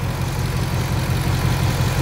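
A 2024 Ford Mustang GT V8 engine revs with a steady drone, a deep low rumble and a breathy rush of intake air, holding even throughout without a clear rise in revs.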